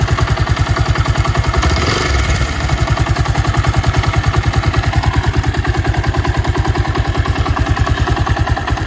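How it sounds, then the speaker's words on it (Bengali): A motorcycle engine with a fault idles loud and close after starting, with a fast, even pulsing clatter throughout and a brief rough surge near the start. "স্টার্ট দিচ্ছি, ইঞ্জিন একটা আওয়াজ দিচ্ছে দেখো।"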